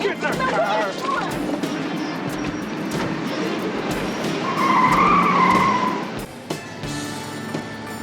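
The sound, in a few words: car driving off with tires skidding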